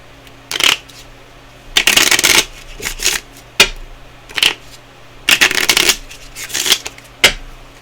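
Tarot cards are shuffled by hand in several short, crisp riffling bursts separated by pauses, with lighter taps and slides of the deck in between, close and clear.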